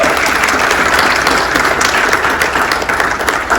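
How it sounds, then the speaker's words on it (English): A room full of people applauds, a dense, steady wash of clapping that holds at the same loudness throughout. "Let's give her one more round of applause."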